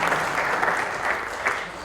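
A theatre audience applauding at an open-mic poetry night, steady dense clapping that swells in a few waves, loud and close throughout.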